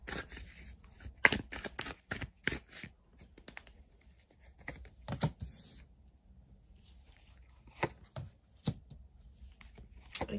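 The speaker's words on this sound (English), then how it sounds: "Let's lay out some cards here and see what's going on here for you" Tarot cards are handled and laid out for a reading, heard as soft close shuffles, slaps and brushes of card stock in scattered bursts against a quiet background.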